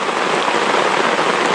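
Steady rain falls at a lakeside campsite in the Adirondacks, a dense, even hiss of drops pattering close by on surfaces with no break and no voices.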